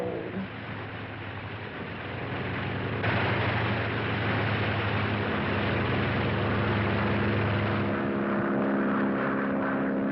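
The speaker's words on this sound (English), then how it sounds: "Now all I gotta do is get on that plane." A propeller airplane engine drones loudly and steadily throughout, rising slightly in intensity after a few seconds, with no talk over it.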